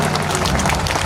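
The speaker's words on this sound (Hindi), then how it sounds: "जोरदार तालियों के साथ स्वागत करें" A crowd at a statue unveiling ceremony for a freedom fighter in Dhingsari applauds to welcome a guest, loud, dense continuous clapping from many hands, close and filling the whole moment.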